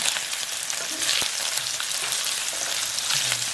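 Kimchi fried rice with sausage sizzles steadily in a hot pan as it browns, a continuous close crackle with occasional stirring scrapes and no talk.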